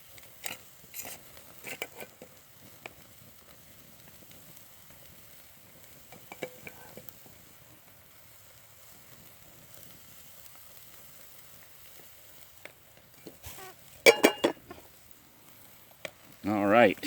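Leftover pork butt roast meat frying in a pan, a faint steady sizzle with occasional clinks and scrapes, speech in the background, and louder utensil clatter near the end.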